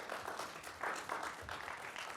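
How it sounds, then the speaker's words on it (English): Brief audience applause closing a talk on the probate process, an indoor patter of many hands clapping at an even, moderate level. "if you just join me in applause, thanking Kim for her knowledge and for."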